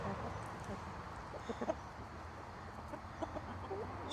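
Soft, scattered clucks from hens over a busy low background murmur, fairly close but quiet.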